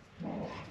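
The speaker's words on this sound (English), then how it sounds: "you can hear our dogs in the background." Dogs bark in the background of a garage while a Ford Bronco's interior panels are taken apart, a single short, moderately loud bark or yip rising briefly over a quiet room.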